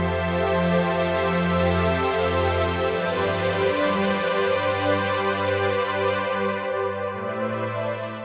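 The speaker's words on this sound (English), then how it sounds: "I've got this pads track here with an instance of Retrolog" Sustained synth pad from a Retrologue instance in Cubase, playing rich, dense chords that shift slowly over about eight seconds with a steady, loud, continuous level and no voices.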